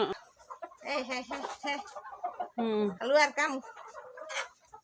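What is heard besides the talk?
chickens clucking in a yard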